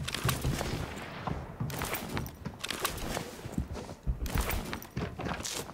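Repeated gunfire bursts from the Arena Breakout video game, irregular shots spread across the clip over a steady busy background, with no talk.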